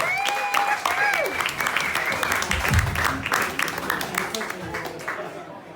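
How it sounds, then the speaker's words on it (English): Audience applause at a stand-up comedy show in Luxembourg, a dense, steady wash of clapping filling the room for several seconds, with cheering voices and whoops mixed in before it gradually thins out. "Round of applause for Elian!"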